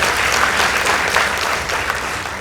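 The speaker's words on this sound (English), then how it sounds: "Let's give Ayiecho Nyatao a round of applause." Audience applause for the Ayiecho Nyatao Secondary School debate team at a school debate, a steady, dense clapping that fills the room and runs unbroken from start to finish.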